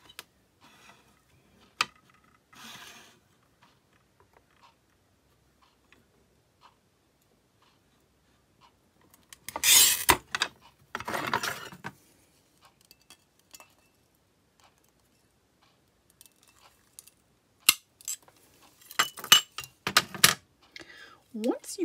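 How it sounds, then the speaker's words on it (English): Glass for fused glass ornaments is cut and handled on a cutter with an end stop, giving sparse light ticks and taps, then clusters of sharp scoring, snapping and clinking in the second half, close and quiet. "Once you get it started, then you can just flip the glass over and over and you'll get the cuts that you want."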